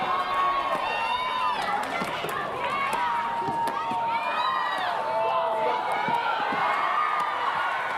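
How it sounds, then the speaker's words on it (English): Spectators cheer and whoop loudly through a women's doubles pickleball semifinal, a dense, continuous roar of many voices with rising shouts, while commentators talk over it. "The crowd is going wild."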